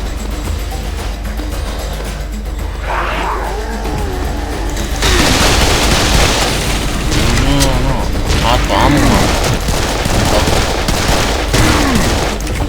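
Gunfire from the video game Serious Sam 3: loud bursts of shots and booms echo over a noisy game soundscape, with a player talking throughout.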